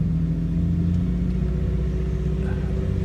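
An old Chevrolet Impala engine idles and creeps forward slowly, a steady low rumble with a constant hum and no revving, moderately loud throughout.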